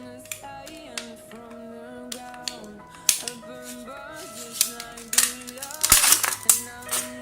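Scissors cutting a piece out of an aluminum drink can, with repeated crisp metallic snips and crinkles over a steady background of soft music-like tones, growing louder and busier toward the end.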